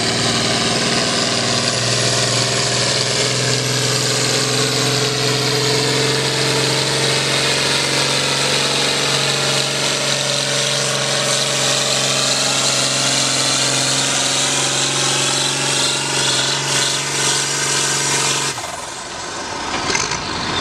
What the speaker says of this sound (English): With his 4320 John Deere.